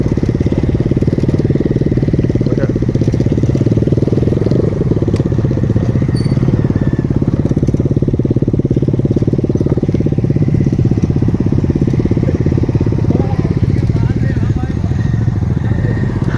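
A Bajaj Dominar 250 motorcycle idles through its exhaust with a steady, loud, close low-pitched thrum that holds evenly throughout, with voices faint in the background.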